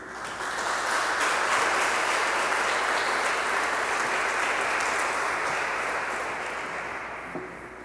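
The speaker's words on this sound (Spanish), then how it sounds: "Un aplauso para Monseñor Rivera." Sustained, loud applause from a congregation at a Catholic mass in San Salvador honoring Monsignor Rivera, steady for several seconds before tapering off at the end.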